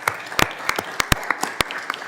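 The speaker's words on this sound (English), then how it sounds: "if you don't mind giving him a round of applause for his help and professionalism" A small committee room gives a round of applause to a subcommittee staff director at a markup, sparse uneven claps from a few people, distinct sharp hand strikes spaced irregularly over two seconds.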